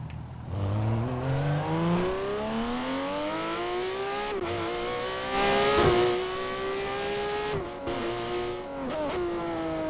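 A race car engine in the Garry's Mod sandbox game revs loudly and steadily, its pitch climbing through the gears with brief dips at each shift, continuous and close with no talk.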